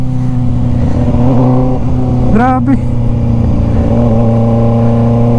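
A Kawasaki ZX-4RR motorcycle engine drones loudly and steadily while riding, rising in a quick rev midway, with wind rush throughout and a rider speaking briefly over it.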